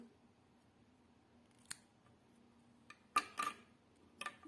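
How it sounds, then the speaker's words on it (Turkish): Scissors snip through thread pulled from a shuttle during a handmade craft project: a faint cut, then a quick double snip and a final clipped snick, each crisp and close against a quiet room. "Evet ipimi kesiyorum."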